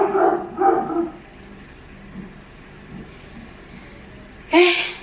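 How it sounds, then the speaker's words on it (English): A dog barks a few times in a quick cluster at the start, then once more near the end, loud and close in a quiet indoor room. "why is this dog doing this to me?"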